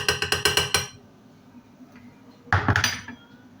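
Metal spoon scraping and clinking against a pan while stirring tomato paste and oil, a quick run of bright clatters, a pause with faint scraping, then another burst of clinks close by.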